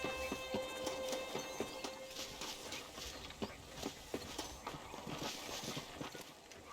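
Horse hooves clip-clop at a steady walking rhythm in the video game Red Dead Redemption, fairly close, over a soft ambient bed of game atmosphere with no talking.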